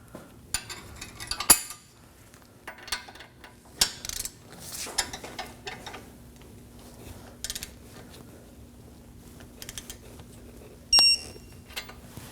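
Torque wrench clicking and ratcheting as a pinch bolt on a 2011-2016 Kia Optima front hub is tightened to spec, with scattered metallic clicks and clunks, a sharp click near the end, over a steady low hum in a quiet garage.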